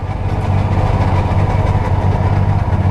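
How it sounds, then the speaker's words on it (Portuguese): A Volkswagen Gol's engine idles steadily up close, a loud continuous low rumble with an even vibration and no voices over it. "Eu vou desligar o carro."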